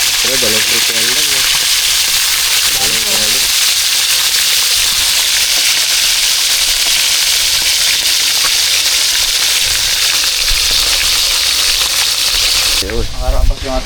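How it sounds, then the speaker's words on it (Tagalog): Constant crackling sizzle of fish frying in oil, loud and close, with brief bits of talking at the start and end. "Prito na natin"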